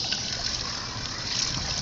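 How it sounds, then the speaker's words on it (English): Water is poured into moose milk to make a chimney parging mix: a continuous close trickling and splashing with no pause throughout. "we're going to want to do is take our moose milk. We're going to add some water in it."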